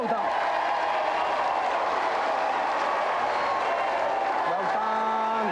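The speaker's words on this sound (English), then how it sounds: "Let's have a round of applause for both of our contestants." A studio audience on a game show applauds both contestants, a steady broad wash of clapping and crowd noise throughout with background music tones over it.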